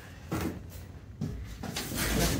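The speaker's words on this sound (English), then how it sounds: "This barn door closed so the cold doesn't get in." A barn door on a chicken coop is pulled shut in winter, heard close as several wooden scrapes and thuds that slide and bump in uneven bursts.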